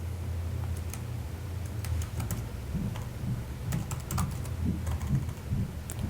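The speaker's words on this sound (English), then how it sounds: "I'm going to type" Quiet, irregular clicks of keys being typed on a computer keyboard, in short bursts with small pauses, close by and with no speech.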